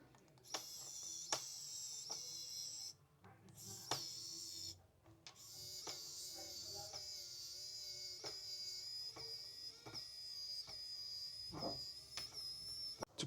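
A small electric precision screwdriver whines close by as it loosens a hex bolt, with a steady high motor tone broken by brief stops and clicks.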